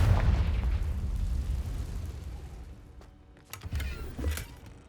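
A Confringo fire spell blast in Hogwarts Legacy, a low rumbling boom that fades, then a couple of sharper bursts and crackles follow nearby, with no talk.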